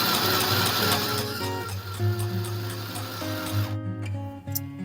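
A mini sewing machine from Aldi stitches fabric with a steady, close mechanical whir and rapid rhythmic clatter, running continuously with small shifts in pitch and no voices.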